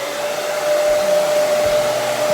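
A hair dryer runs continuously with a steady whine and airy rush, close and loud, with no talking.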